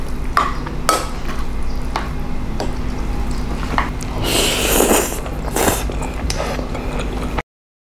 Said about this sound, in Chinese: 拌一拌